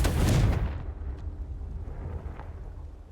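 Confringo fire spell explosion in the video game Hogwarts Legacy: a single heavy blast bursting in the first half second, then a rumbling decay with faint crackles trailing off.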